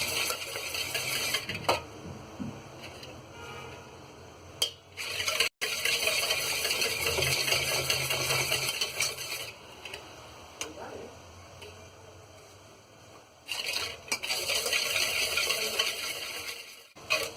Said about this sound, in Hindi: थोड़ी थोड़ी शक्कर करके इस तरीके से हम डालते जाएंगे और इसे फेंटते जाएंगे